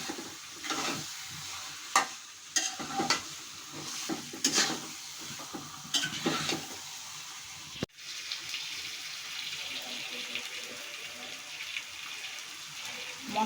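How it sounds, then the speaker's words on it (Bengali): Meat being stirred into fried spice paste in a pan for a spicy meat curry: a spoon scrapes repeatedly at first, then a steady, close sizzle carries on. "মাংসটা দিয়ে এখন আমি নাড়তে থাকি।"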